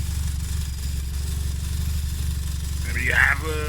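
A Honda engine idles on wasted spark ignition, a steady low rumble throughout, with someone talking briefly over it near the end.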